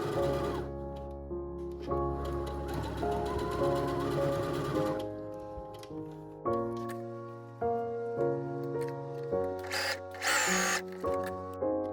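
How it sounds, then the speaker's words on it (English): A sewing machine stitches the shoulder seams of a frilled dress, its motor whirring in several bursts that start and stop with short pauses in between. The sound is close and steady, with a brief clatter near the end. "Sew along the shoulders and then press seams open."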